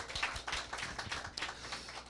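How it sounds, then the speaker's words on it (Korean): A church congregation claps in welcome for visiting family members during a Sunday worship service, an irregular patter of hand claps from many people in a room, fairly soft and steady throughout. "환영의 박수 우리 줬으면 좋겠습니다"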